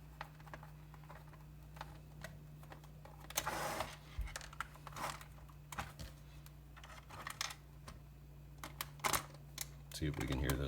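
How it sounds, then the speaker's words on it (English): A Torx T10 wrench is turned backwards during a HobbyCNC mechanical fret upgrade, making small, faint, scattered clicks and ticks over a low hum, with some muffled handling noise. "turn it backwards first till you feel it little click"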